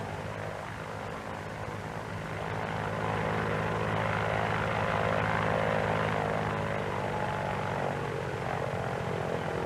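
Vought F4U Corsair fixed-wing aircraft with its radial piston engine and propeller, a steady loud drone that swells slightly and holds at full power throughout, with no voices.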